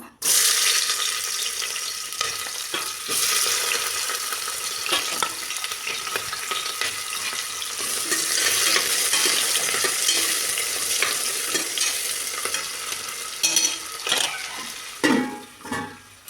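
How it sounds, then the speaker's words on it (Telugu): Chopped onions and green chillies fry in hot oil for mutton curry, a loud continuous sizzle with stirring scrapes throughout and clattering near the end, close and with no talk. "ఉల్లిపాయలు వేగుతున్నాయి కదా"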